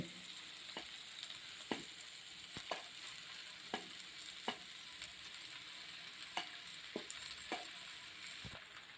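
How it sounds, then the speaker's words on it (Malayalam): Cooked pasta is stirred into masala frying in a pan, giving a faint, steady sizzle with a soft scrape or clack from the spoon roughly every second. "അതിന് ശേഷം നമുക്ക് വേവിച്ച് വെച്ചിരിക്കുന്ന പാസ്ത ഇതിലേക്ക് ആഡ് ചെയ്യാം."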